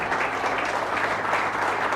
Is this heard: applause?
yes